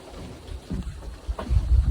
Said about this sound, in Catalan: està plovent i ara donen rayos i truenos una altra vegada